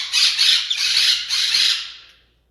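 A Steller's jay gives three loud, harsh squawks in quick succession, close by, the last one trailing off into quiet.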